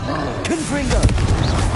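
Confringo blasting spell explosions in Hogwarts Legacy, a loud burst of booms and slams under game combat, with a creature-like roar and voices shouting over it.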